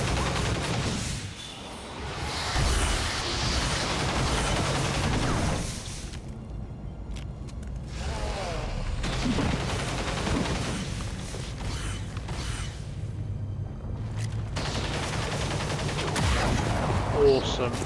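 Bursts of suppressing gunfire aimed at a turret in the XCOM video game, with rattling volleys and mechanical clanks coming and going over roughly eighteen seconds at moderate loudness.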